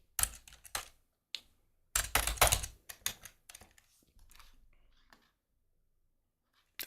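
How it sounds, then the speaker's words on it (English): Keys on a computer keyboard clatter in irregular close bursts, with quiet pauses between runs of typing and no voices. "I'm typing."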